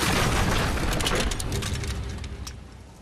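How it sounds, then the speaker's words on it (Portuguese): A heavy rumbling crash as a roof caves in during The Evil Within horror video game, loud at first and decaying into a noisy tail. "Caiu o telhado, não dá para voltar."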